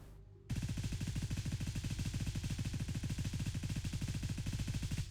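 DDM4 rifle fired in full auto at a target in Gray Zone Warfare, one sustained burst of rapid, evenly spaced shots that runs loud and close for nearly five seconds after a brief pause, with no talking.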